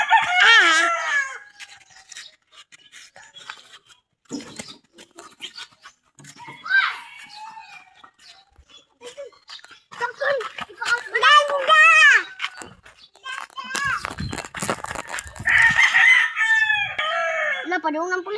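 A rooster crows loudly several times, its calls spread out between bursts of people talking and scattered clucking nearby.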